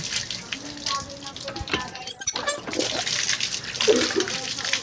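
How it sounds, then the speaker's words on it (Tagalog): Water gushes and splashes from a Jetmatic hand pump into a basin, a steady, busy splatter with someone talking over it. "Marami namang tubig dito sa ating Jetmatic"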